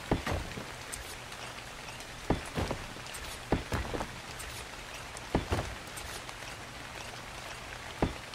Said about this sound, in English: Here comes the rain, lovely.